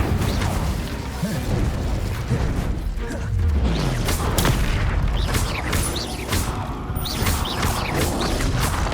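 Confringo blasting-spell explosions in Hogwarts Legacy combat: dense, continuous booming and crackling blasts stacked on one another, loud and close, with sharp bursts throughout.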